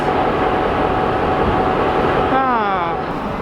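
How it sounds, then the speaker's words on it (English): Diesel locomotives of the Spirit of the Outback train idle at a Queensland station, a loud continuous engine rumble with a rising whine near the end, under someone talking. "Well, there's the locomotives."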